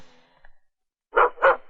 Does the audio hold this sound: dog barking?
yes